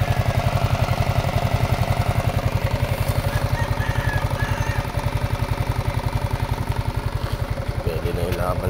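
A Yamaha Mio scooter engine runs close by at a fast, steady put-put idle, with a rhythmic pulsing throb that continues evenly for the whole stretch.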